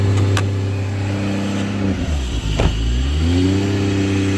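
A Lexus GS300 car engine, warming up after long disuse, idles with a steady, low, throbbing hum; its pitch dips and wavers briefly as if stumbling, then settles again.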